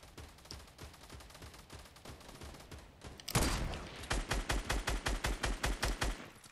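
Fortnite gunfire in a Teams of Twenty battle royale match: steady rapid shots at first, then a louder, heavier string of regular evenly spaced blasts close by.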